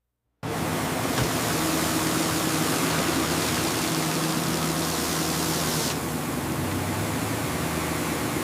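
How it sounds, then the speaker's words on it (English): After a moment of silence, a loud, continuous hiss of high-pressure water jets cleaning a truck's undercarriage starts abruptly, with a low engine hum underneath. "Engaging lift. Water jets active."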